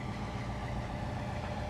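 A train locomotive idles on the track, a steady low diesel rumble that holds constant and fairly close with no breaks throughout.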